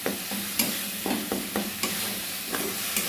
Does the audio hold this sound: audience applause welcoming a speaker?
no